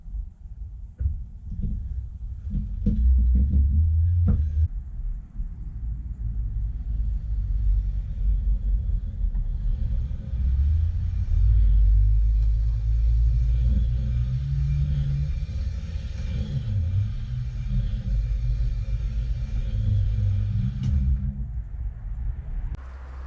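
An electric motor powered by a 12-volt battery spins the wheels of a Porsche 911 being converted to electric drive, a loud low rumbling whir that rises after a few clicks and holds steadily for about twenty seconds before fading.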